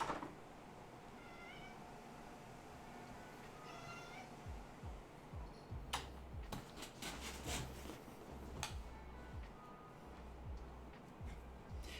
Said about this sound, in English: Yes, that is my cat. She wanted in.